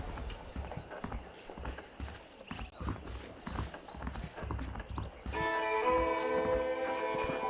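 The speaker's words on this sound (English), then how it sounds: "The horses are saddled up over here." Horse hooves clip-clop steadily in the video game Red Dead Redemption, with a brief whinny, moderately close over ambient noise, and a musical tone joins near the end.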